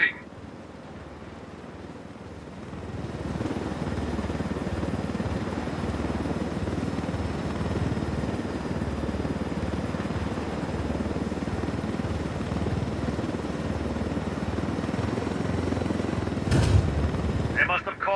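A helicopter in Ghost Recon Wildlands drones steadily with a dense, even rotor rumble that holds loud and continuous throughout, with a sharp knock near the end.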